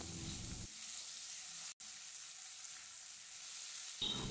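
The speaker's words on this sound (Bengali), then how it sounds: "সামান্য পরিমাণে হলুদ দিয়ে মিনিট 3-4 সময় ধরে মিডিয়াম ফ্লেমে আমগুলোকে ভেজে নেব।" Mango pieces frying with black mustard seeds and turmeric over a medium flame, a steady, soft hiss of sizzling oil throughout, fairly faint and close, with no talk.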